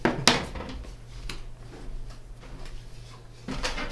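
Metal clanks and knocks as someone rummages for an old metal cookie pan, with a sharp clatter at the start, scattered quieter bumps and scrapes, and another rattle near the end, all close by.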